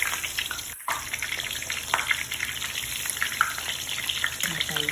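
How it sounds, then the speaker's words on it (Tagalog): Eggplant frying in hot oil, with a dense crackling sizzle close by, a few stirring clatters and a brief cut near the start, no voices. "maglagay ulit tayo ng panibagong iprito"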